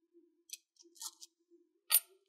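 Scissors cut tape inside an HP ENVY 13 laptop during a repaste and cleaning job: a few quiet, close snips and clicks with short gaps of near silence between them, no talking.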